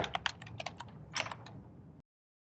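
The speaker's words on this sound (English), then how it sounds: "Then you have to type in the password again." Keys on a computer keyboard are tapped in two quick bursts while a password is entered, close and crisp, then the sound cuts off abruptly.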